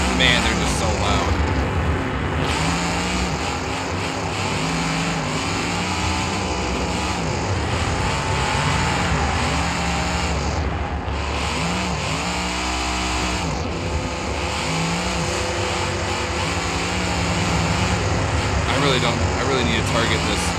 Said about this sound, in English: really am trying to talk over these cars, but man, they're just so loud